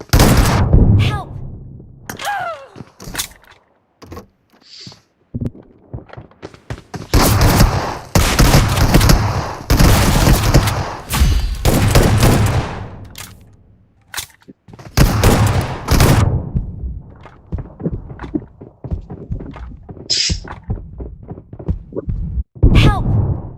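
Bursts of gunfire from a shooter video game, dense volleys and single shots scattered throughout, loud and close, with voices talking between and over the shooting.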